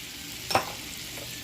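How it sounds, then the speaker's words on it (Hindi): Cracked cardamom pods, still in their husks, sizzle as they heat in a pan before vermicelli is roasted. A steady hiss carries a single sharp stir or scrape at close range. "ये मैं डालूंगी अब इलायची, इसमें इलायची गर्म हो जाएंगी।"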